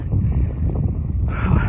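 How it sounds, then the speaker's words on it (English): Strong wind buffets a microphone on a windy hilltop along Bomber Lane, a 4x4 off-road route, as a steady loud low rumble with gusty swells that brighten and intensify near the end. "Very windy up here."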